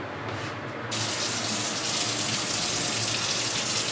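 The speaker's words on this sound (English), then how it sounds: "Now we're just gonna cover it up with cold water." Cold water gushes steadily from a tap into a pot of lobster shells for stock, a loud continuous rushing pour close by that grows fuller after the first second.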